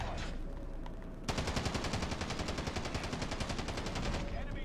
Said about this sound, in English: I just started firing so he could back off.